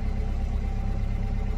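Subaru Forester 2.5 XT with a 2.5-litre engine lacking ignition, running on a dynamometer: a steady, fairly quiet low mechanical rumble, constant throughout with no talk.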